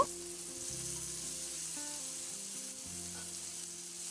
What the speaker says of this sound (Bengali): লবণ আর হলুদ মাখানো কাঁকরোলটা তেলের মধ্যে দিয়ে খুব ভালো করে কাঁকরোলটাকে ভেজে নেব